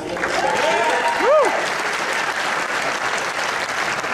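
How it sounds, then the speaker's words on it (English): A rowdy crowd at a Buck versus Norton US Senate debate claps in a dense, continuous wash of applause. A brief rising and falling whistle cuts through partway, and voices mix in. "Rowdy crowd."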